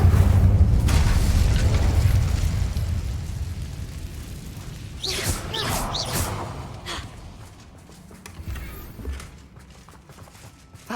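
Incendio fire spell explosion in the video game Hogwarts Legacy, a heavy rumbling boom that rolls out and fades, then a couple of crackling whooshes and scattered impacts and footstep-like clatter.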